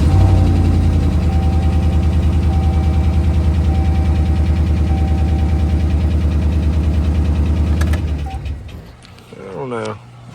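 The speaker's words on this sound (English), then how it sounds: "It sounds like it's got a lifter tick." A car engine with about 208 miles idles steadily with a rapid, rhythmic lifter tick layered over the low hum, then cuts out near the end.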